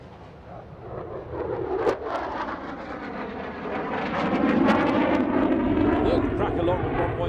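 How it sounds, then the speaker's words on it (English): A supersonic jet makes a knife-edge pass at an airshow, its roaring engine rumble building and swelling as it passes, while a commentator talks over the PA. "Knife edge pass."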